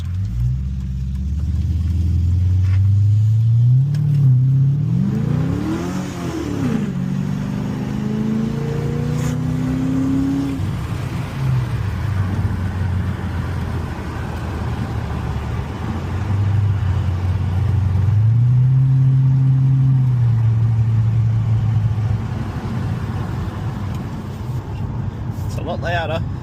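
HSV Clubsport sedan fitted with a 2.5-inch exhaust, accelerating on a road, heard from inside with a deep, loud rumbling drone that climbs through rising revs in a couple of pulls, steady and close throughout.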